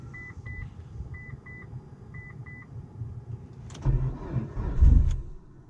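A Mitsubishi Evo sits in neutral while a few short electronic chimes sound, then the engine cranks without throttle, giving two close, heavy bursts of starter churning that fail to catch.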